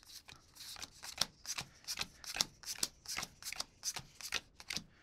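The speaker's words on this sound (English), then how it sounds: "So this shuffles them." Magic: The Gathering trading cards shuffled by hand, a quick run of about a dozen crisp riffling bursts, close and even, with no talk.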